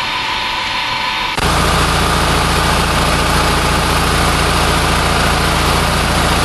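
A JXQ-10 generator set engine starts abruptly after a brief quiet moment, then runs loud and steady with a deep, even droning hum and a constant mechanical vibration throughout.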